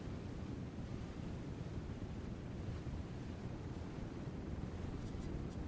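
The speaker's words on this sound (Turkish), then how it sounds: "Bu arada bayağı dalgalandı deniz." Rough sea waves in the aircraft carrier management game Aircraft Carrier Survival, a steady, dense wash of surf and wind-like rumble that holds at an even level throughout with no voices.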